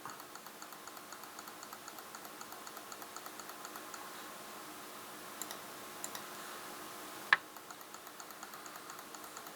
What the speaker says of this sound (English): A lot of clicking.